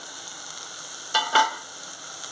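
Drumstick and tomato curry masala frying in a pan, a low steady sizzle broken by two short stirring scrapes near the middle, quiet and without talk.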